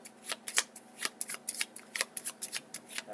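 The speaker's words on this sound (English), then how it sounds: "So I'm going to shuffle and draw." Playing cards riffled and shuffled during a Clank! In! Space! board game session, a quick run of crisp, papery flicks and snaps at close range with no talking.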